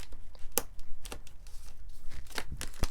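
Tarot cards riffle and slap together in several quick bursts, crisp papery flutters separated by short pauses, close to the listener.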